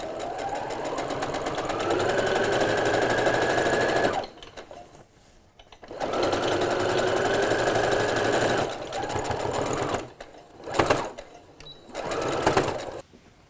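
A sewing machine stitches the side seam of a fabric surgical mask in two long steady runs, each about four seconds, close and loud, separated by a pause with handling noise and a few short bursts of stitching.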